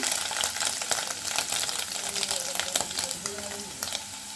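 Paneer cubes frying lightly in hot oil for paneer posto, a dense continuous crackling sizzle close up, with scattered pops and stirring sounds throughout.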